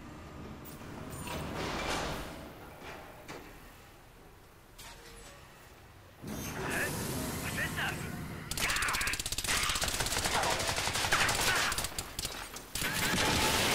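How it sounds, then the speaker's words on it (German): Sustained gunfire in Crysis 3 as an oil barrel is shot, with rapid bursts and rattling volleys over game ambience that grow louder and denser in the second half. "Wir hatten auf das Ölfass geschossen."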